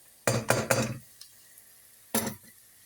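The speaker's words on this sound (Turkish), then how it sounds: "Ve hepsini birlikte tekrardan karıştırıyorum." Celery, potato, carrot and garlic soup ingredients are stirred in a pot, three quick scraping clinks of a utensil close up, a pause, then one more stroke.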